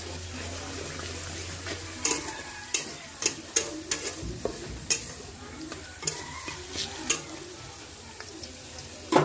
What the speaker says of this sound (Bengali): এবার এর মধ্যে একটু রসুন দিয়ে দিলাম, একটু কলাইয়ের ডাল দিয়ে দিলাম, দিয়ে একটু নাড়াচাড়া করছি